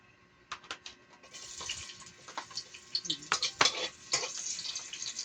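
Onion sautéing in hot cooking oil in a pan for ginisang malunggay, a close, crackling sizzle with scattered utensil stirs and scrapes, building and growing busier toward the end.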